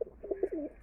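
Pigeons cooing at a farmhouse loft, a soft, close series of low burbling coos in a quick rhythm with no speech over them.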